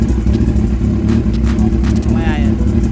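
A Yamaha R1 sport motorcycle engine runs close by at a steady idle with a deep, even exhaust rumble throughout, while a person talks over it.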